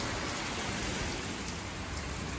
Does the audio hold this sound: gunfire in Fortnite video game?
no